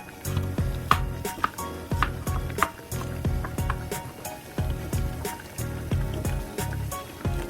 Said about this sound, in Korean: 양파도 썬다.